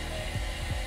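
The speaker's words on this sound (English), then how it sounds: "I'm gonna hit this with a hairdryer" A hair dryer blows steadily with a continuous whirring rush while drying a freshly painted fishing lure, with a few low thumps from handling underneath.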